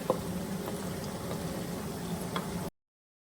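Thick tomato sauce of blended tomato, onions, garlic and ginger bubbling and sizzling as it fries in a pot, a steady low crackle with occasional soft pops, fairly quiet and close.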